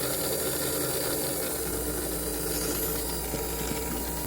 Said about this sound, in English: This is obviously the gear that runs the lead screw, because you can see how slow it goes, even at full speed